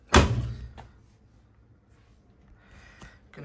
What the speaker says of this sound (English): Okay, we are loaded up, so let's shut the door.